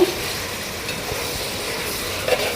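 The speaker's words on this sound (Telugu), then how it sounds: "ఇప్పుడు ఒకసారి అయితే బాగా కలుపుకుందాం" Soft cooked vegetables being stirred in a pot for sambar: a quiet, steady wet scraping and gentle sizzle, with a faint clink near the end and no talking.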